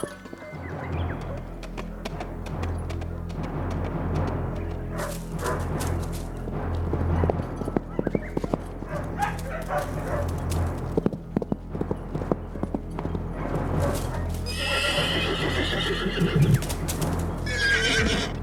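Horses clip-clop and gallop with hooves pounding in a quick, steady rhythm, mixed with loud whinnies and neighs in the medieval animated series The Legend of Prince Valiant, dense and close with music and effects layered over the hoofbeats.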